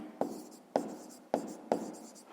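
Four quick scratchy strokes of a pen or pencil on paper, close and soft, spaced roughly half a second apart as a math solution is written down.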